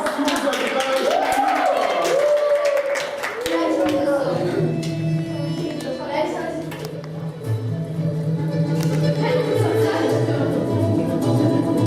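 Children at a kids' camp clapping for a young guitarist, a crisp round of many small hands beginning at once and fading out, with an adult voice and chatter around it.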